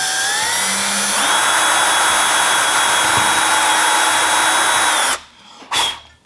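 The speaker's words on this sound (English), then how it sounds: "All you're going to want to do is get a drill bit that's similar to the size of the nail" A power drill pre-drilling a hole in wood whines at a steady pitch for about five seconds, then cuts off, followed by a short second burst.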